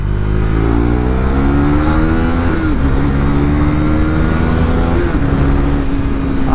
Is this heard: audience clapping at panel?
no